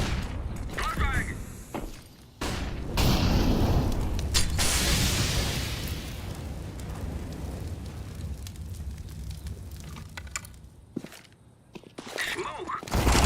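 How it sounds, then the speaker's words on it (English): A flashbang grenade bursts in a video game amid sustained loud roaring and crackling blasts, with clicks and shouted callouts breaking in around the noise. "Flashbang!"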